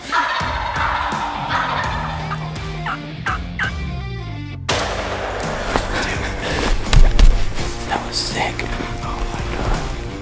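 A wild eastern turkey gobbles in the field, several rattling calls breaking out over rustling and movement noise, with a sharp cut midway and a thud-like burst later.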